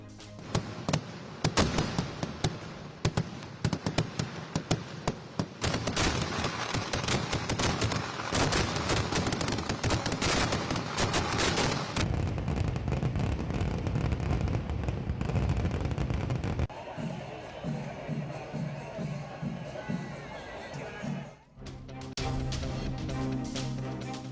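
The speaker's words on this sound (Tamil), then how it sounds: "கேரள மாநிலம் திரிசூர் பூரம் திருவிழாவை ஒட்டி வான வேடிக்கை. விண்ணை பிளந்தது வெடி சத்தம்." Rapid bursts of fireworks at the Thrissur Pooram festival in Kerala crackle and bang in dense volleys, loud and continuous, with booming blasts and a brief lull near the end.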